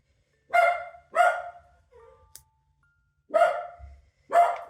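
A dog barks four times close by, two sharp barks, a short pause, then two more, with a faint high chime in the gap.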